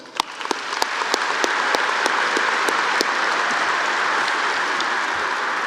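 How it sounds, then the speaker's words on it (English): An audience at a high school graduation ceremony in an arena breaks into applause, a few sharp early claps swelling into a dense, steady wash of clapping that holds until the end. "an impressive accomplishment that deserves another round of applause."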